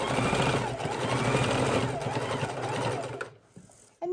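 A sewing machine stitches a fabric soup bowl in a steady, close, whirring run with speech over it, then stops abruptly near the end.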